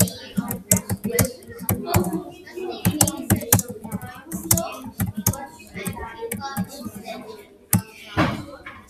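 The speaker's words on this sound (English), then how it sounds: "Now you give it a voice and then you type what you want it to say." Computer keyboard keys clatter in quick, uneven bursts of sharp clicks, close and fairly loud, while a person talks over parts of it.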